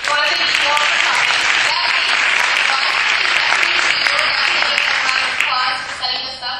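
Loud, dense audience applause fills a hall at a public talk event, steady sustained clapping from a large crowd that tapers slightly at the end.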